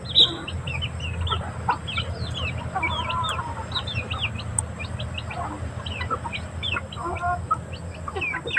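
Chickens and a rooster at a farmyard cluck and squawk in a busy overlapping chorus with high chirping birds, steady and fairly close, no talking.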